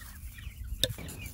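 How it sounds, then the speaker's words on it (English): A single sharp cluck rings out from a 9-week-old chicken over faint, scratchy background noise. "But first, the chickens, who are 9 weeks old today."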